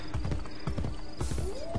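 Horse hooves clip-clop at a steady trot in Assassin's Creed Brotherhood, set in Rome, with a whinny rising near the end over the game's background ambience.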